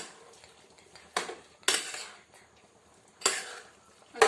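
Chicken stew being stirred after coriander leaves go in, with a metal spoon clanking and scraping against the pot in a few distinct, close strokes separated by quiet pauses.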